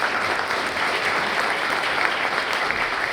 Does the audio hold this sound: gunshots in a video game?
no